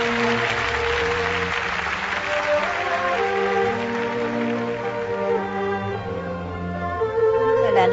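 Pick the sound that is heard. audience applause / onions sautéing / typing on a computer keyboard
audience applause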